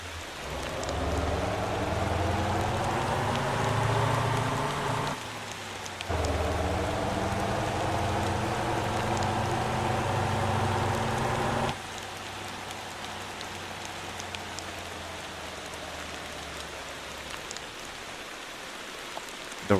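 Steady rain in the driving game Motor Town, a continuous dense hiss pattering on surfaces with a low engine drone beneath, shifting in level partway through and easing to a softer wash for the latter half.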